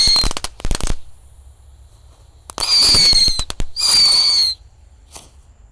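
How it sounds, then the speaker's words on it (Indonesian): Six small mercon tikusan firecrackers lit at once give rapid sharp cracks, followed by two loud crackling bursts with a high whistling fizz, then a faint final pop. "Di sini ada mercon tikusan tor. Kita nyalakan 6 biji sekaligus guys."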